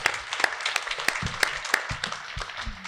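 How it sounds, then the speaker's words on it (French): A small audience applauds Father Robert after a liturgical concert: thin, scattered clapping with a few distinct sharp claps over a quiet room. "on lui donne une belle main d'applaudissements à notre Père Robert"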